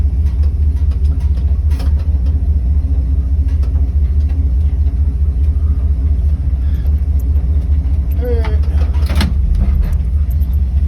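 A loud, low engine rumble runs continuously from an old Dodge A108 van reversing nearby, with occasional clunks and faint mechanical noises over the drone.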